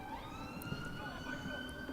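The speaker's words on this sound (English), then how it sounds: "You can hear the sirens in the background there," Emergency vehicle sirens wail faintly in the distance behind a live county cricket broadcast of Nottinghamshire against Warwickshire, their rising and falling tones drifting steadily through ambient ground noise.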